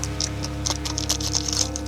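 A Beyblade X Tyranno Roar blade package is unboxed, with a quiet run of small plastic clicks, taps and rustles in quick, irregular succession close to the microphone.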